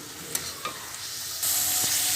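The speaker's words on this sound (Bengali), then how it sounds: "ভালো করে মশলাটাকে কষিয়ে নিতে হবে যতক্ষণ না তেল ছেড়ে দিচ্ছে" Spiced masala with curd stir-fries in oil for katla kaliya, a close, steady sizzle broken by a few sharp spatula scrapes, then growing louder and more intense toward the end.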